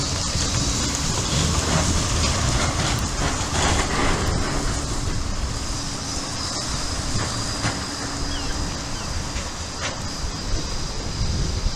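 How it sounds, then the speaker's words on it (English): A Blackpool tram rumbles past on the promenade during a storm, under strong, steady wind buffeting the microphone, with no voices. "look, the tram that's going to Fleetwood Ferry."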